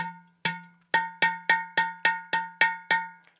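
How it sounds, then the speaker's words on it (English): A clay udu drum shell tapped about nine times in an even rhythm, each hit a bright, ringing, slightly metallic knock that decays quickly, close and clear. "one of the things that we do on the Udu is we just tap the shell, or the body"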